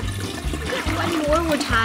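A toy toilet from the Flushin Frenzy game gives a short flushing gurgle of water, heard fairly close during a father-and-son game, with voices in the background.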